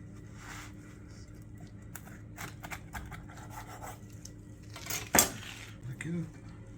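A knife cuts through baked shrimp hawawshi bread in a quiet kitchen, giving faint scraping and rasping strokes, then a sharp metallic clink near the end.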